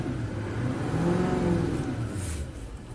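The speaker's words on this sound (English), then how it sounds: "It revs up fine." GM Duramax diesel pickup engine revving up, a steady mid-pitched roar that rises and holds close by before easing slightly, with no talking.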